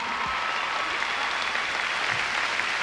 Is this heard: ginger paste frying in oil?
no